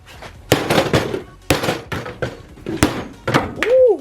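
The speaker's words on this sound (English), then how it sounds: "Let's see if the hammer can do it." A hammer strikes a horror-movie weapon replica from the Jason Voorhees and Michael Myers films: five or six hard, loud metallic whacks spaced about half a second to a second apart, with voices murmuring between the blows and a short voiced exclamation at the end.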